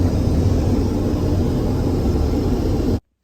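A steady, broad roar of airplane cabin noise fills the space in flight, constant and fairly loud, then cuts off abruptly into silence.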